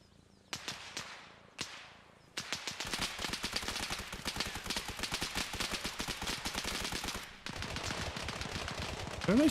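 Rapid gunfire in the military video game Arma Reforger: a few separate shots open, then long sustained bursts of automatic fire crackle nearby with sharp, rhythmic reports.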